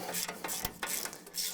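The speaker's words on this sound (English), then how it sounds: "as we're starting to tighten these bolts down here, I don't want to ram them all on one side tight right away" A hand ratchet tightens wheel bearing bolts on a 2011-2014 Ford F150, giving a close run of rapid clicking pawl sounds in a few short bursts.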